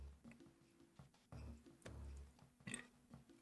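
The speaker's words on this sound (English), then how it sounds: "I can't stop burping." Close, low burps from a person, several short guttural gulps and belches in an uneven run, with quiet game sounds from Metroid Fusion in the background.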